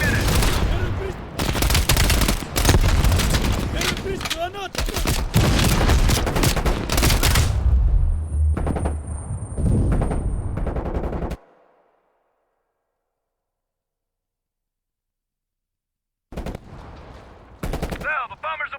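Sustained machine gun fire and heavy explosions from a WWII-style mission in Call of Duty Black Ops Cold War, loud and dense for about eleven seconds, then silence before more bursts return.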